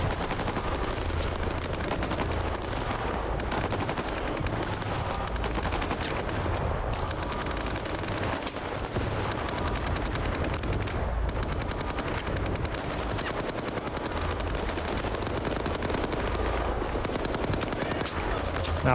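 Sustained automatic gunfire in S.T.A.L.K.E.R. 2: Heart of Chornobyl, dense rapid bursts with heavier blasts rolling on without pause, loud and close, with a voice faintly underneath.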